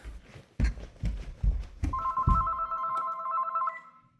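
A phone's ringtone for an incoming call chirps in steady, sustained tones, preceded by a run of soft thumps and handling knocks, fairly close with no talking.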